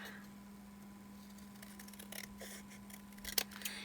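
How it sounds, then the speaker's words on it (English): Large Westcott scissors trimming paper, a few soft snipping cuts building to a sharp close snip near the end, under a steady low electrical hum. "I'll come back in with my bigger Westcotts and trim this off."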